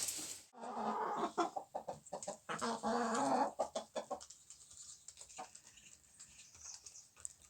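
A rooster's clucking and rough calls up close, a dense burst at first, then trailing into scattered softer clucks.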